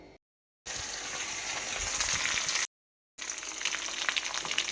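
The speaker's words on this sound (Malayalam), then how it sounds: "റെഡിയായി കേട്ടോ. ഒന്ന് വറുത്തിടാം." A kitchen tempering of mustard seeds and curry leaves frying in hot oil in a pan, a bright crackling sizzle in two stretches broken by brief silent cuts, close and steady.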